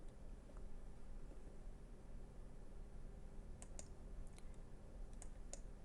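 A computer mouse gives a few faint, sharp clicks, some in quick pairs, over a steady low hum of computer or room noise while Windows Server Manager is used.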